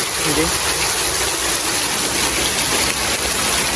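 Heavy rain pours down in Jaffna while floodwater runs past, a dense, unbroken rushing wash that stays loud and even throughout.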